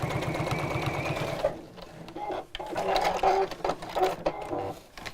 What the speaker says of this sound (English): So I'm sewing closer to the actual piping cord.